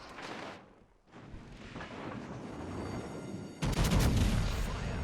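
Heavy battleship gun salvos boom in World of Warships, a muffled roar fading out, a brief lull, then a louder, closer burst of cannon fire near the end.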